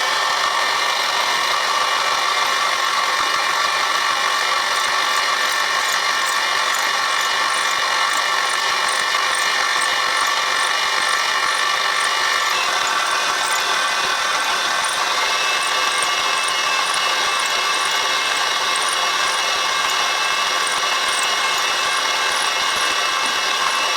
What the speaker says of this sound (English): I'm going to nibble the slot out down to 10mm deep.